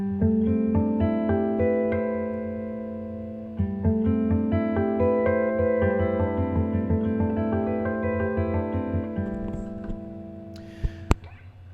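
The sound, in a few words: artificial harp harmonics chord on jazz guitar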